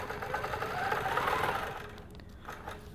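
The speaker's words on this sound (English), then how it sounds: "we're just gonna do a little bit of stitching here" A sewing machine stitching with cotton thread runs in a quick, steady mechanical whir of needle strokes for a couple of seconds, then slows and stops with a few soft clicks near the end.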